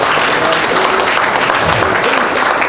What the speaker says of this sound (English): if y'all give Luke a round of applause real quick.